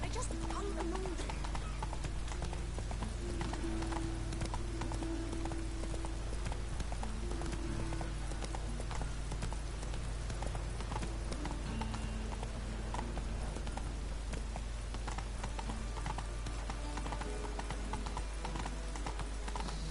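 A horse's hooves beat a steady, continuous clip-clop in The Witcher 3 video game, over a dense bed of game sound with someone talking at times.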